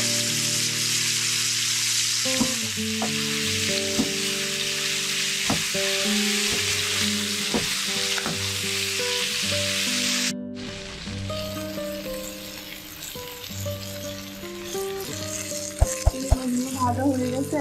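River fish frying in hot oil sizzle steadily and loudly up close, with crackles and spatters throughout and a few sharp pops and utensil knocks near the end.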